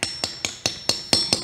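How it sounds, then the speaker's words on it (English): Hammer blows on a cement stone head being carved by hand: seven sharp, evenly spaced strikes, each with a bright ringing attack and a quick decay, close and loud with no talking. "hammering, and then that slowly creates your outline"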